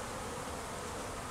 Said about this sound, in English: So these bees have swarmed from somebody who's got a hive somewhere around here,